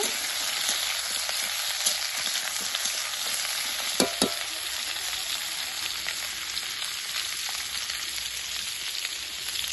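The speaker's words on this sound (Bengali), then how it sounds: "তেজপাতা শুকনো লঙ্কা সবজিগুলোকে কড়াতে দিয়ে দিয়ে নাড়াচাড়া করে নেব" Vegetables tossed with bay leaf and dried chilli in a wok give a steady, loud sizzle and frying hiss throughout, with occasional clinks and scrapes of the stirring spoon.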